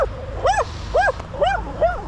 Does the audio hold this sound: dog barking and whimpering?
yes